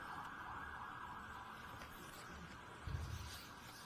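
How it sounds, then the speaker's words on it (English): Emergency vehicle sirens passing outside a courtroom, faint and distant, a continuous wailing tone under a low room rumble, with a brief bump of nearby noise near the end. "if I could just hold on 1 minute while the sirens pass"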